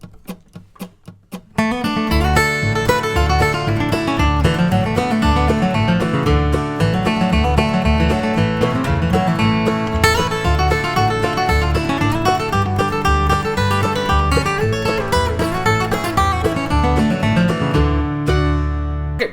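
Intermediate bluegrass guitar solo on New River Train played up to tempo over a full backing track, a brief quiet pickup leading into steady, busy flatpicked lines that run continuously to the end.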